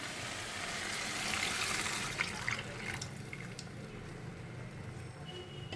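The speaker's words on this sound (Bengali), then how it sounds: "এবার আমি এই মশলা ধোয়ার জলটা দেব" Spice-rinse water is poured into a pot of mutton curry, giving a steady close liquid rush that eases off into faint drips and trickles, with no talking.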